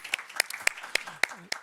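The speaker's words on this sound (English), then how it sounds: "Give him a warm applause." Scattered applause at a cancer forum conference, a few sparse, sharp hand claps spaced unevenly over a short moment, fairly faint and thin rather than a full ovation.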